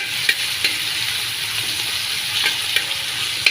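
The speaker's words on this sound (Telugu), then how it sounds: "ఇప్పుడైతే అల్లము తెల్లగడ్డ పేస్ట్ దంచి పెట్టింది అదైతే వేసేసుకుందాం ఇదిగా బాగా ఎర్రగా వచ్చేంతవరకు అయితే వేయించుకోవాలి" Ginger-garlic paste frying with onions for a chicken dish gives a steady, close hiss of sizzling oil, broken by a few light scrapes of stirring, with no voices.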